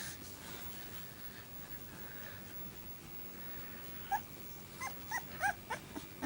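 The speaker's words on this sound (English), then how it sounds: "That's Jekyll making all the noise?" A puppy, one of a litter lying with its mother under a blanket, gives a few faint whimpers and small yips near the end over a steady low background hum.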